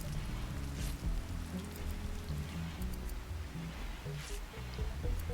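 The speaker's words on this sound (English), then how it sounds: "it must be the rain" Steady rain ambience in the colony-building game RimWorld, a continuous soft patter of drops on surfaces with low background music underneath, even and moderately loud throughout.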